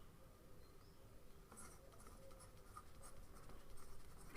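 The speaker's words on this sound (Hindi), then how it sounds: "तो मैं एक बार लिख देता हूं आपको यहाँ पे" Someone writes out the solution to a pair of linear equations on a board, a soft continuous scratching that quietly builds and ends in a sharper tap.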